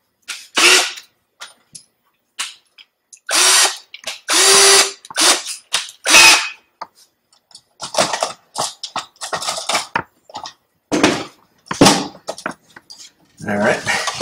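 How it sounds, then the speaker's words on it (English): A power drill tightens the screws that hold tabs in a 48-channel control box: repeated loud, close bursts of whirring and ratcheting come in irregular spurts separated by brief silences. "For that, I'll use a drill."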